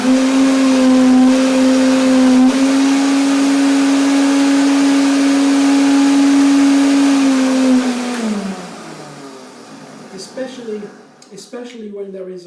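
Kitchen blender blending sunflower seeds and dill for crackers, a loud steady high whir that runs for about eight seconds before winding down, followed by quieter clattering.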